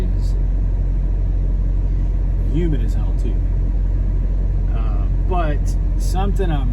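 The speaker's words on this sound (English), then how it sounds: "the truck is idling, meaning the camera is vibrating" A truck engine idles with a constant low, vibrating rumble that runs unbroken beneath someone talking close by on a hot day.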